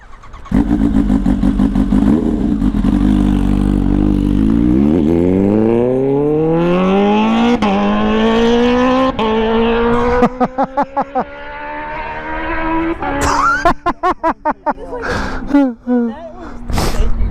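A 2015 Kawasaki Ninja H2 engine revs hard and climbs through clutchless upshifts, then finishes with a burst of sharp exhaust pops and crackles, loud and close.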